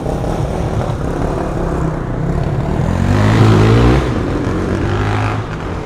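Motorbikes with very loud exhausts pass on a Miami street at night, a droning engine roar that swells to a peak with a rising, revving tone and then fades as they move away.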